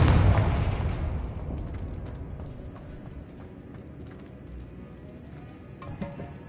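A Confringo spell explosion from Hogwarts Legacy booms loud at the start, then decays into a long rumbling tail with scattered clattering debris and faint creaks.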